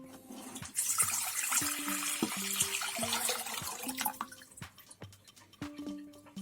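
A litre of water runs and splashes into a saucepan for brine, a rushing pour with tonal ringing that rises and falls, ending in a few trickles.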